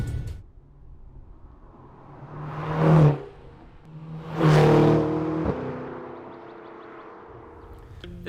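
A 2020 McLaren GT accelerating hard, its engine note rising in two loud surging sweeps that peak and fade, with a steady road rumble between them and no talking.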